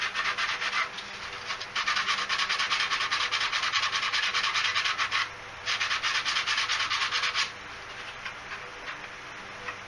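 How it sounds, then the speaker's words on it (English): A PLA plastic part is sanded by hand with 60 grit sandpaper in long, steady rasping strokes, loud and close, broken by short pauses, with no talking. "now we've got some of our 60 grit still here. I'm just going to hit the top of this"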